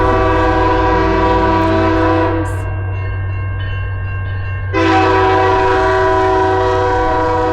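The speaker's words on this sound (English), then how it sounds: "it's the noise of the horns that goes through the crossings" A train horn blares loud and near at closely spaced rural crossings on the South Coast Rail line, a sustained multi-tone chord that dips briefly and then resumes over the rumble of the passing train.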